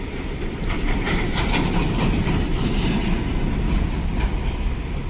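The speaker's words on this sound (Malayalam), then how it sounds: "മിനിറ്റിന് വെച്ച് ഓരോരോ ഗുഡ്സ് ട്രെയിൻ ഇതുവഴി കടന്നു പോകുന്നുണ്ട്" A goods train rolls past close by, a steady loud rumble of wagons with clickety-clack rhythm running the whole time, beside the NH66 highway works, no talk.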